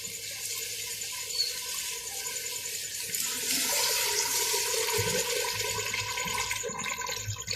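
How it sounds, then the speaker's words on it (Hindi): Steady rushing and splashing of water poured into a pressure cooker over chana dal, continuous and fairly close, with no talking. "हुण असीं पावांगे पानी।"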